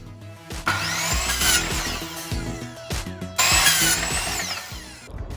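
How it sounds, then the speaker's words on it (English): A miter saw cuts wooden mop sticks to length for a DIY table stool: two loud whining cuts, each starting with a rising motor spin-up and ending in a spin-down, with clunks and handling knocks in between. "took them to the miter saw to cut them down to size."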